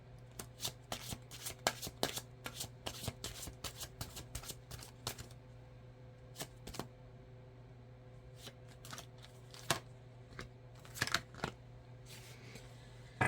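Tarot cards are shuffled and drawn: rapid bursts of crisp riffling flicks in an uneven rhythm, pausing briefly midway before more separate snaps and slides, close and quiet with no talk.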